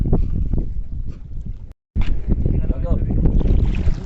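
Strong wind and rough sea at the end of the fishing season, heard aboard a fishing boat working pomfret nets: continuous loud, broadband buffeting and wave wash with a short dropout midway.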